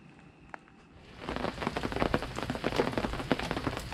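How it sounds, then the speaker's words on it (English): Rain falling at a campsite in a state park, starting faint and swelling after a second into a steady, close patter of drops on surfaces that continues to the end. "it has been raining since right before the sun came up"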